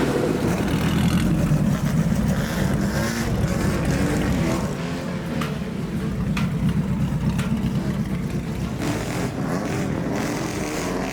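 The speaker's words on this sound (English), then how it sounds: "And this is for chain-driven early Frazer Nashes. They always go sideways." A 1920s chain-driven Frazer Nash race car engine roars continuously at Goodwood, with a steady loud drone that dips slightly midway and then holds, alone with no talking.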